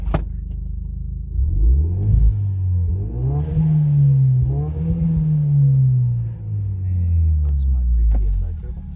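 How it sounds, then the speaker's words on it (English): A Hyundai Genesis fitted with a K&N cold air intake revs up a few times, its engine rumbling and rising in pitch in swells, then settling back down, recorded close by with no talking over it. "Alright, rev it."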